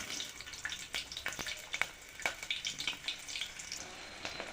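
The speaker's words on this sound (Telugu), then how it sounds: "దాంట్లో కొంచెం ఆయిల్ వేసుకొని ఇప్పుడు దీంట్లో ఉల్లిపాయలు వేసుకోవాలి" Onions fry in oil in a bowl for mushroom curry, giving a soft, steady sizzle. Scattered crackles and spits run through it at close range, fairly quiet, with no voices.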